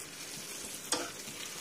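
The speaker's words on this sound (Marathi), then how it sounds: "या छान खरपूस अशा भाजून घेऊया." Green chillies cut in half roast on a tawa for thecha, a faint, steady sizzle with a single short crackle partway through.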